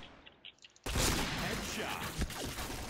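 A P90 firing in a video game, a sudden loud dense burst of automatic fire that keeps going after a quieter start.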